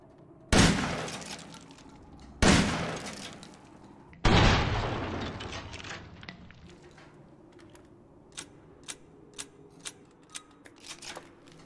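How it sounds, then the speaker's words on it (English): M1897 shotgun in Resident Evil Village fired three times, loud blasts each trailing into a decaying echo, followed by a quick run of sharp metallic clicks as shells are loaded. "So let's go ahead and test the shotgun out."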